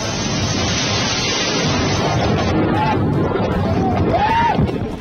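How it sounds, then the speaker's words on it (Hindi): A violent storm at sea batters the cruise ship Viking Sky, which has engine failure, with a loud, unbroken roar of wind and crashing water. Faint tonal whistles and creaks rise through it. "समंदर में तूफान आ गया।"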